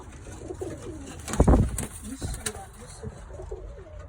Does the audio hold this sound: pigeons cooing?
yes